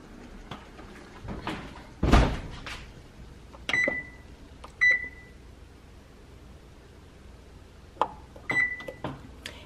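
Kitchen oven handling for an apple cake: a loud door clunk, a few knocks and clicks, and several short electronic beeps from the oven controls, in a quiet room.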